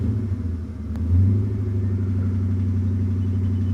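A car drives along the road, a steady low engine drone and tire rumble heard from inside the cabin, swelling briefly before settling into an even hum, with no voices.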